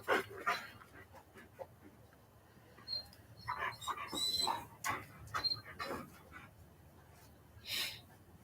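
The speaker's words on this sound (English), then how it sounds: "Leroy's my dad's dog." Leroy the dog pants and whimpers close by in short, irregular bursts, with quiet stretches in between and a faint voice at moments.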